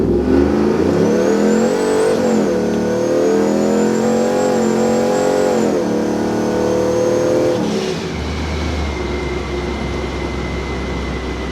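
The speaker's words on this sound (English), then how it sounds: "I'm gonna pull out here and punch it." Supercharged 4th-gen Ram 1500 pickup accelerating hard, a loud sustained engine roar with a rising high-pitched supercharger whine that climbs steadily, then drops off as the truck settles into a steadier cruise.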